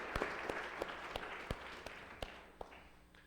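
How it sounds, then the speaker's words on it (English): A small audience at an ethics debate gives a quick, faint round of applause, distant clapping that fades out with a few louder single claps standing out. "our moderator, Dan, if we can give him a quick round of applause, that'd be great."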